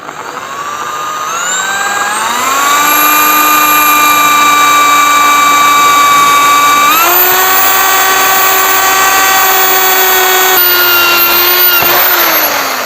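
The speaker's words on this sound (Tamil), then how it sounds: "ஒரு ட்ரில்லிங் மிஷின் வச்சு ஃபஸ்ட்டு ஹோல்ஸ் போட்டுப்போம்." A power drill whines loudly and steadily up close, its pitch stepping up as it bites into a metal motorcycle handlebar, then easing slightly near the end.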